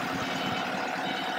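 A truck pulls an unfinished low bed trailer nearby, a steady, dense engine rumble with rattling vibration that stays loud and constant throughout.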